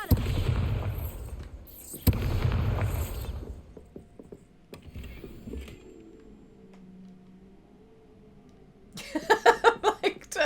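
Bombarda explosion spell in Hogwarts Legacy, heavy booming blasts near the start followed by quieter mechanical rumbling and a burst of rapid crackling impacts at the end.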